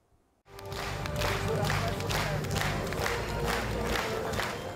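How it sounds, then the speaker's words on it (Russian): A crowd at a festive concert in a Nizhnekamsk community arts centre bursts into loud, sustained applause and cheering after a brief silence, with clapping and shouts blending into a continuous roar. "Аплодисменты не смолкают ни на секунду."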